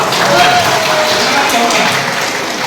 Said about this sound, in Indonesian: Tepuk tangan dong semua